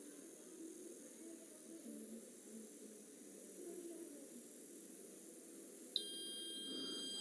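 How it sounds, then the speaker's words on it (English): An alcohol-sensor buzzer on a student electronics project starts abruptly near the end, a thin high electronic tone over faint room noise. "the buzzer is on and the engine is off"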